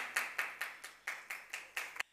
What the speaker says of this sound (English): She threw the bottle and started clapping.